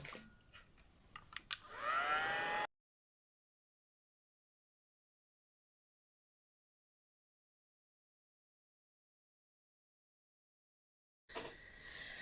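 A heat tool blasts hot air to set embossing powder on papercraft, a loud, close whooshing roar for about two seconds that cuts off abruptly, then silence until another short burst of noise at the end.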